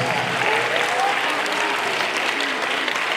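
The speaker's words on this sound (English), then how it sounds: "I request everyone to give a huge round of applause to all the parents who are present" A school audience at a mock parliament event gives a round of applause for the parents, dense continuous clapping filling the whole stretch at steady loudness.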